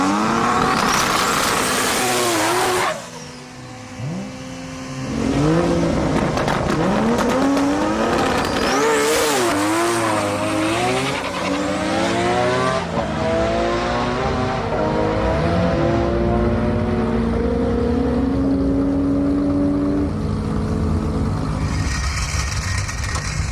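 A Nissan R32 race car at a Sendai Highland drag event revs hard and loud, its engine note sweeping up and down repeatedly with a brief lull early on before the roaring resumes.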